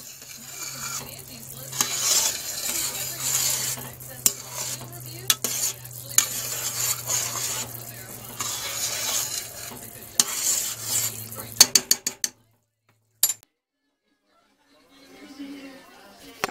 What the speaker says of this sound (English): when you stir it and it doesn't stop boiling. That's a hard boil.